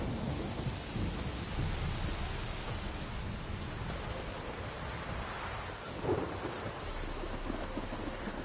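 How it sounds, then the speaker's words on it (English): Heavy rain and rumbling thunder from a storm in the video game The Witcher 3: Wild Hunt, a steady dense downpour with a low roll and one sharper crack of thunder near the middle, no talking. "Storm, damn it."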